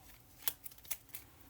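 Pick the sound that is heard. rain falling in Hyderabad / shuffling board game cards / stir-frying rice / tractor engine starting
shuffling board game cards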